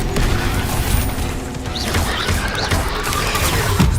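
Dense game spell-casting sounds from Hogwarts Legacy, with a steady wash of crashing and mechanical effects, brief whooshing sweeps and a sharper thud near the end, loud throughout.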